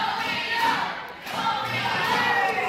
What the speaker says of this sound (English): This crowd trying to invigorate their champion out there